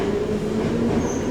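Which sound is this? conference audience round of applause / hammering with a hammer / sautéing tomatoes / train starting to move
train starting to move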